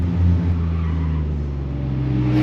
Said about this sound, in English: that Focus ST was going a little too hot. You could hear the tires squalling.